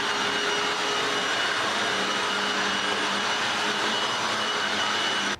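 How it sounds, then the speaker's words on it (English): A Hoover WindTunnel upright vacuum cleaner runs with a loud, steady, broadband roar and whine that stays constant throughout and cuts off abruptly at the end, with no talking. "a Hoover wind tunnel can clean it up in 10 seconds"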